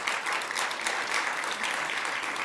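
A conference audience applauding, dense and even clapping from many hands that fills the room at a steady loudness throughout.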